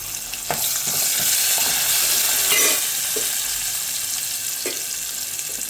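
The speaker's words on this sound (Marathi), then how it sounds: "पुन्हा ते सगळं छान असं परतून घेते" Cabbage sautéed with asafoetida and coriander sizzles steadily in a pan, a loud close frying hiss broken by occasional spatula scrapes and taps, with no voices.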